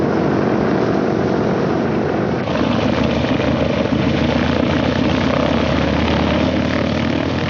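A big 2500-horsepower piston aircraft engine at takeoff, its loud, continuous propeller roar droning close and steady, with a slight shift in pitch partway through.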